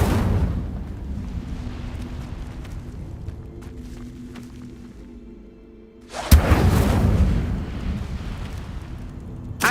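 An Incendio fire spell cast in Hogwarts Legacy: a low rumbling hum gives way to a sudden loud fiery whoosh that bursts out and roars on, filling the space without any voices.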